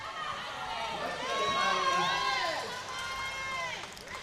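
Spectators at a Queensland youth and junior lead climbing final cheer and shout encouragement for a young athlete, a lively crowd swelling and easing in waves behind a commentator's voice.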